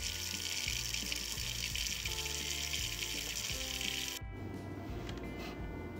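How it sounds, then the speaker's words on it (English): Water gushes steadily from a tap into a pressure canner, then cuts off partway, leaving a low mechanical hum. "fill this up, if you've got a pressure canner like this, with about 3 inches of water"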